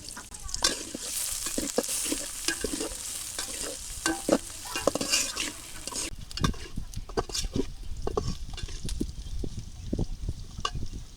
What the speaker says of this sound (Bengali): তেল দিয়ে দিলাম পেঁয়াজ কুচি দিয়ে দিলাম চিংড়ি মাছ দিয়ে দিলাম